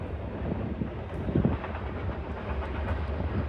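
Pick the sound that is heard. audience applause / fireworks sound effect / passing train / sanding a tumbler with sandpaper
passing train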